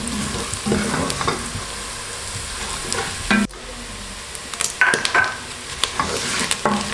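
Garlic and ginger fry in a pot for Kenyan pilau, a steady sizzle broken by spoon stirring and scraping clatter, with a sharp knock and a brief drop midway.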